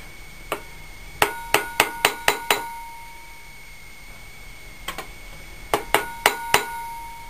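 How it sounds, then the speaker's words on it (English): A hammer taps the edge of a metal gasket in two bursts of sharp, ringing strikes, about five quick hits then a pause and another run of five or six, close and clear in a quiet room. "What you're doing is you're pinching the edge of the metal with your hammer"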